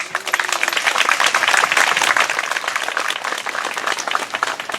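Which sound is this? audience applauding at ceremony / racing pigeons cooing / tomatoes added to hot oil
audience applauding at ceremony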